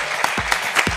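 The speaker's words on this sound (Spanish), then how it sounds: "Pido un aplauso para ustedes." Audience applause at an awards ceremony for a film festival, a loud, dense wash of clapping from a large crowd filling the whole moment.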